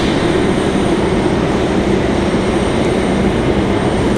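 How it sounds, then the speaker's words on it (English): A United Airbus A319 jet departs from the runway at Raleigh-Durham International Airport, its engines producing a steady, loud, broadband roar throughout with no talk over it. "That should be a good departure there, that A319."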